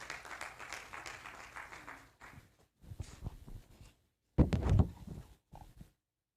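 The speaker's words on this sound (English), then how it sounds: "A round of applause for him, please." Audience applause at a 40th anniversary conference of an institute of ecology and environmental studies, honoring the committee chairman: dense clapping for about two seconds, then breaking into scattered knocks and short bursts of noise.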